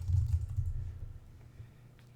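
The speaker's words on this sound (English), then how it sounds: "we can start typing our code" Code typed on a computer keyboard during a live Xcode tutorial session: a steady run of soft keystroke clicks, fairly close, fading slightly toward the end, with no talking.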